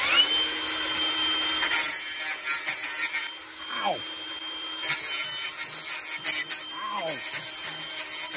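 A cutoff wheel grinds metal on a Husqvarna YTH 2042 riding mower repair, a loud, steady high-pitched whine with shifting pitch and rubbing bursts as the disc bites, with a couple of brief tonal sweeps as it slows.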